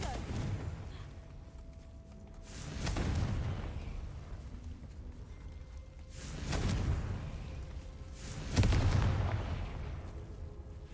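Confringo spell explosions in Hogwarts Legacy, three separate booming blasts spaced a few seconds apart, the last the loudest, over a low game ambience.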